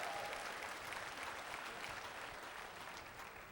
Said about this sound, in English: you're going to clap better than that